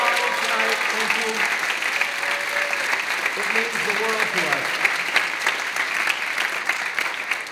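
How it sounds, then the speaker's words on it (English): An audience at a high school choral holiday concert claps steadily for school administrators and faculty members, the applause continuing throughout while a speaker talks over it. "Can we give a round of applause to all of our administrators and faculty members in the audience tonight?"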